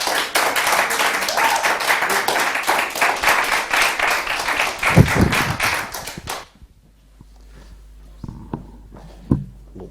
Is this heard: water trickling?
no